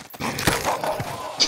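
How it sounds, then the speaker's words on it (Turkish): Dog barking in Call of Duty Warzone, a short loud burst of barks and yips amid game noise. "O köpek çok gürültü yapıyor."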